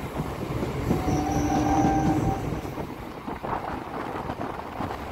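A Tarakeswar–Goghat local passenger train running along the line near Arambagh, with a steady close rolling rumble throughout and a brief high metallic wheel squeal early on, with no voices.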